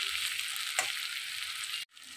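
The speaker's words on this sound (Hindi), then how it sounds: "तो थोड़ा सा हमें इसको फ्राई करेंगे प्याज को" Onions fry in a pan with a steady, close hiss that holds unbroken for almost two seconds. A single brief scrape or stir marks the middle, and the sizzle then drops out abruptly near the end.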